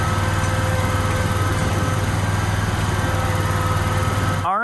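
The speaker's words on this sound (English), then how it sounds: "first pull on the mower and everything went good" Gasoline lawn mower engine running at a steady, close and loud drone with no talk, cutting off abruptly just before the end.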